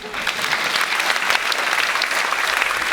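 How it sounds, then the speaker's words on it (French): Dense, steady audience applause at a theatre season presentation, many hands clapping together at an even loudness throughout with no pauses. "Tu peux t'applaudir et le public aussi peut t'applaudir."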